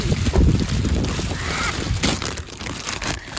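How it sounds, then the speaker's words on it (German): Wind blows hard across an outdoor camp beside a Landcruiser Prado 90, a steady loud rumbling buffet with low gusty roar and some hiss, filling the whole short stretch. "Windy."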